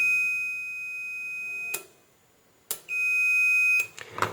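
A multimeter checking continuity across an automotive relay contact gives two sustained high electronic beeps, each lasting over a second, separated by a short silence and a click, with faint handling noise at the end.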